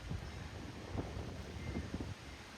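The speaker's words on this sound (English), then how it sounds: "This is not even 10-mile-an-hour winds." Faint wind gusts buffet a microphone with low rumbling swells and a few soft thumps, steady and unbroken, with no voices.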